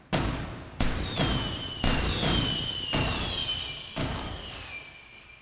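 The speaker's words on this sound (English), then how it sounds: "and light fireworks" Fireworks going off on Bonfire Night, five sharp bangs about a second apart, each trailing into a fading crackle and a whistling tone, with no voices.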